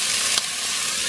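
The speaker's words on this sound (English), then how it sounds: "Put in the green onion and ginger." Steady, close sizzling of frozen green onion and ginger frying in hot oil, a bright hiss with a brief louder crackle.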